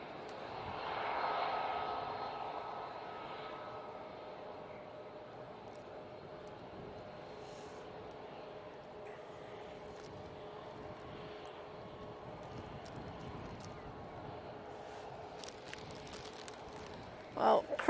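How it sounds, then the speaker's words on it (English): A Boeing 787 Dreamliner takes off from runway 23 left at Manchester Airport, its jet roar a steady, distant broadband rumble that swells early and then holds for the whole stretch. "Awesome to see a 2-3 left departure with the Dreamliner."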